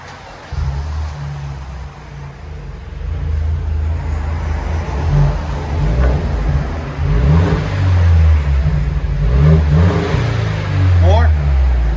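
A 2019 Mercedes C300 turbo with dual exhaust, muffler and resonator deleted, idles with a deep rumble and then revs repeatedly and loudly up close, with voices talking over it.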